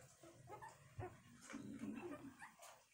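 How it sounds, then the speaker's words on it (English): Two-week-old puppies whimpering and yipping close by, a string of thin, high, wavering cries and small squeaks overlapping one another at a soft level. "Chubby little puppies."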